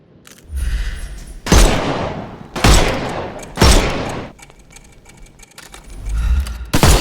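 Heavy gunfire in a Sherlock Holmes video game, fired to shoot the armour off enemies: several loud separate bursts of shots with pauses between them, and no talking over them.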